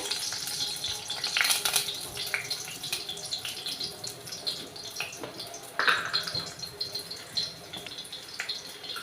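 Crushed garlic cloves fry in hot oil in a pan, giving a soft continuous sizzle and crackle with scattered pops and clatters of stirring, fairly close and at low volume, with no one talking.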